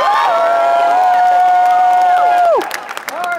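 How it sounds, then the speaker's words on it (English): A comic con crowd cheers loudly, one long sustained whoop ringing out above the din before it breaks into scattered clapping and shouts. "she's gonna show some love by a round of applause"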